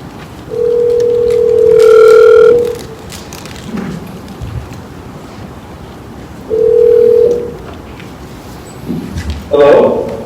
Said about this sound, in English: So did you want to go ahead and dial the applicant?